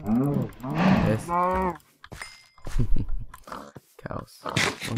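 Cows moo in a prison-themed video game, deep lowing calls mixed with chewing and crunching sounds while a player talks excitedly over them.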